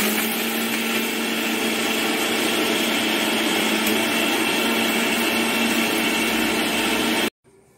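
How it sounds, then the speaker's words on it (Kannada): Electric mixer grinder whirring at a steady high pitch as it pulverises cashews, cardamom and sugar into powder, running loud and continuous for about seven seconds before cutting off abruptly. "ಇಷ್ಟನ್ನು ಹಾಕಿ ನಾವೀಗ ಇದನ್ನು ಗ್ರೈಂಡ್ ಮಾಡಿಕೊಳ್ಳೋಣ ವೀಕ್ಷಕರೇ"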